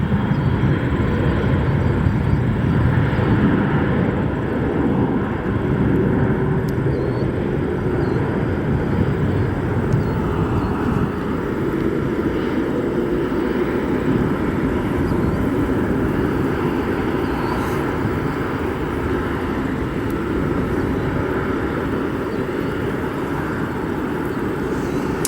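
A jet airliner departing O'Hare Airport with a steady, loud broadband roar that holds for the full length, a sustained distant thrust rumble with no break and no voices.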